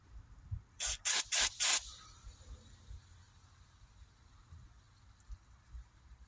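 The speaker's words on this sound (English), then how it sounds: "we'll just spray a little bit of that in there" Four quick bursts of penetrating lubricant hiss from an aerosol can in close succession, close by, sprayed onto a rusted broken ABS wheel speed sensor, followed by a quiet background with faint clicks.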